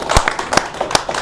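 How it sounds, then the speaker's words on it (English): Audience applause after a tech demo presentation at a meetup: a short, dense burst of hand claps with distinct sharp claps standing out, moderately close, with no talk over it. "big round of applause"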